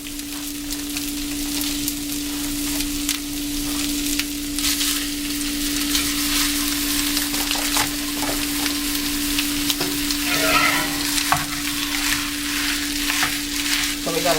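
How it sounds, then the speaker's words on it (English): Italian sausage and ground turkey fry together in a pan, a constant crackling sizzle close by with occasional scraping stirs and a steady low hum underneath. "cook the Italian sausage and the ground turkey together"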